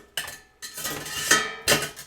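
A lid comes off a pot of steaming broccoli with a metallic clank and scrape, followed by a couple more close clinks of metal and cookware, with no talking.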